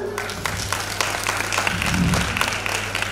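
An audience at a women's Shravan festival event claps loudly for about three seconds, a dense steady patter of many hands up close.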